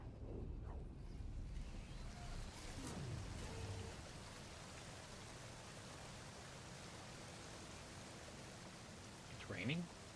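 Steady hiss of a flowing river in No Man's Sky fills the clip, like a rushing stream, with a few brief faint noises near the start and end.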